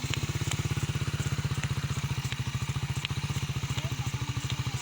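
Manual Raider 150 motorcycle engine idling and running at a steady, close, loud, rapid put-put pulse during riding practice, with no voices.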